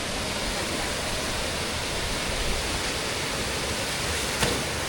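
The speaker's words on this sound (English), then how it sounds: "So this is Pang waterfall." Pang waterfall in Pai, Thailand, a steep rock water slide, roars as a steady, dense broadband rush of falling water, constant and close throughout with no voices.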